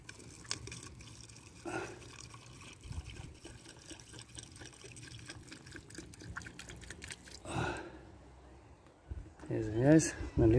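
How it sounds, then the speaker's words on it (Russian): Water poured into a bowl for cats, a few dribbling trickles and drips between pauses, close and fairly quiet, with someone talking intermittently over it. "Водичку налью."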